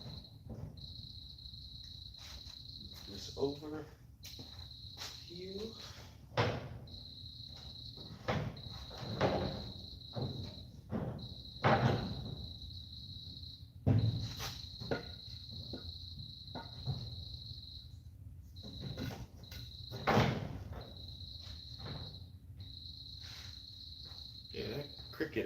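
A loud cricket trills in repeated bursts inside a cave during table building, with intermittent bumps, knocks and handling noises between and under the chirps.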